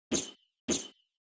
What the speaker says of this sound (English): the top part of a kick that had a tambourine in it that sounds like this